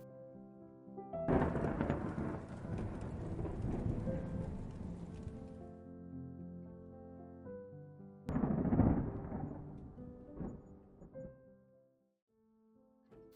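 Thunder in a spooky, haunted-style ambience: a long rumbling roll builds and fades, then a second sharp crack hits and trails off, all over a steady low eerie drone.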